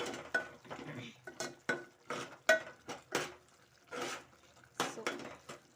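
A spoon scraping and clinking against a pan while beans curry with masala is stirred, a series of irregular metallic strokes with quiet gaps between them, close and moderately loud.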